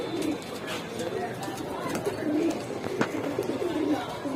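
Rajshahi Genda pigeons coo in low, soft repeated phrases close by, with faint background murmur.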